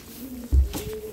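A pigeon gives a soft, low coo, with a brief throaty burst in the middle, close by and fairly quiet against a faint background.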